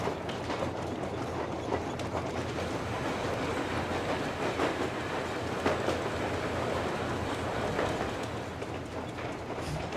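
A rail car runs along the tracks in the video game Metro Exodus, giving a constant loud rumble with faint clattering and no speech.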